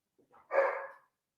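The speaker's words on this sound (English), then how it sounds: "My dog's barking." A single dog gives one short, muffled bark at a distance, alone in an otherwise quiet room.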